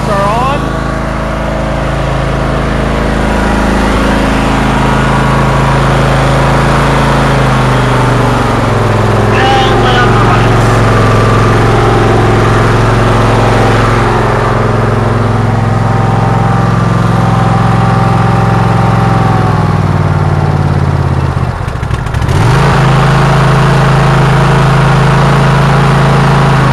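A Troy Bilt race tractor engine idles after a cold start, a loud, steady, close mechanical drone with slight shifts in pitch and a brief dip partway through.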